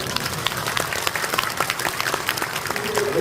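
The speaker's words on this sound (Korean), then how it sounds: "박수를 쳐주십시오" A church congregation applauds during a thanksgiving service to install a new senior pastor. Brief, dense, and fairly close, the clapping keeps up a busy, continuous patter for a few seconds.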